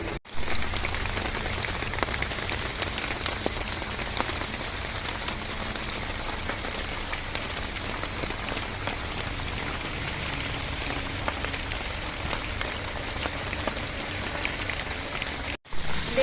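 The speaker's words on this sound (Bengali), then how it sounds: "এরকমভাবে বৃষ্টিটা হচ্ছে দেখুন" Rain falling steadily while the sun shines through a clear patch of sky, a continuous patter on surfaces that holds at an even level for the whole stretch with no voices, dropping out only briefly near the end.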